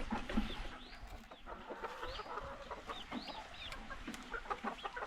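A chicken clucks repeatedly nearby, with rising, squawky calls and short chattering bursts over a steady outdoor background, fairly loud and with no talking.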